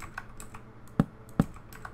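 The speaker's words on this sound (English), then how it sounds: "I have a Razer Black Widow Ultimate, so yeah. I like my loud keys." Clacky keystrokes on a Razer BlackWidow Ultimate mechanical keyboard, a few scattered soft presses plus two heavier, louder thumps, close and with no voices.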